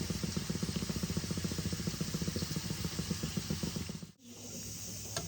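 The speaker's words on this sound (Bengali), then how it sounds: "মটরটা কুকারে 3টা সিটি মেরে দিলাম। এবার আমি কুকারটা বন্ধ করে দেব।" A pressure cooker cooking peas gives off a steady, close hiss of escaping steam with rapid rhythmic pulsing, which cuts off abruptly near the end and leaves a quieter steady hiss.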